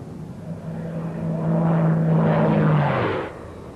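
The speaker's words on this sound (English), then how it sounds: "The first flight of a British jet came in 1941, the experimental" An early British experimental jet aircraft from 1941, the E-28/39, passes in flight with a steady droning engine tone that swells, holds loud and close, then fades away near the end.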